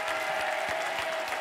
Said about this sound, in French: On applaudit encore le savoir de Xavier.